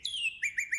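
A person whistles in imitation of a cardinal's call: one long clear descending slur followed by three short bright repeated chirps, close and alone.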